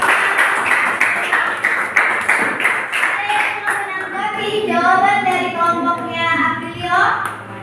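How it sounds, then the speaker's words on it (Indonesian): A student group in a classroom gets a short burst of rapid clapping from the class, with children's voices chattering over and after the applause. "tepuk tangan untuk kelompok"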